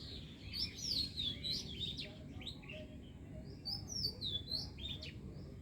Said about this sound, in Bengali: বুলবুলি পাখি দুটি দেখুন উপরের ডালে রয়েছে, সুন্দর বাতাস খাচ্ছে